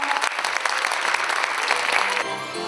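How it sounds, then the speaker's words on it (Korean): Hearty applause fills an award ceremony hall, dense and loud throughout, then tapering slightly near the end as a voice begins over it. "여러분 뜨거운 박수 부탁드리겠습니다."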